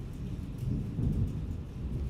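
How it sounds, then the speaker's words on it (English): Thunder rolls as a low, rumbling swell that peaks briefly and fades, with light rain hiss underneath and no talking. "That's thunder."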